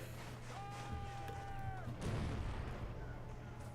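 Cannon artillery booms in a video game battle of the 1880 Anglo-Afghan War, with a couple of heavy blasts over a constant battlefield din and a brief whistling tone.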